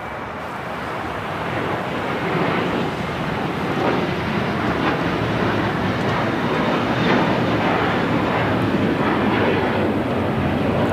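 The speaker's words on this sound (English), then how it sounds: "This is JetBlue 1388 taking off to Boston on the A321." A JetBlue Airbus A321 taking off from LAX produces a steady, broad roar that swells in the first seconds, then holds loud and rushing at a moderate distance with no talk over it.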